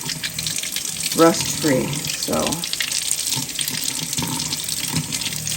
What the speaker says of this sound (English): We're going to wash each jar like that.